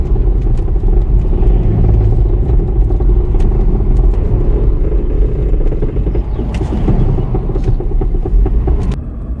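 A small car with a badly worn wheel bearing drones and rumbles steadily while driving on the road, a continuous loud growl with occasional clatter, no talking over it.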